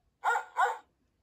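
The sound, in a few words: dog barking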